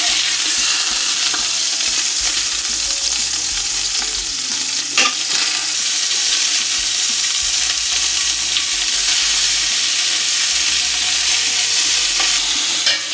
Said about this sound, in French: Le temps de faire revenir mon bœuf.